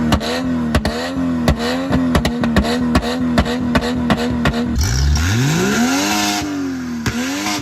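A Chevy SUV engine revs hard through a run of sharp, rising and falling bursts with crackling pops between them, then one long deep swell that climbs and fades, loud and close with no talking.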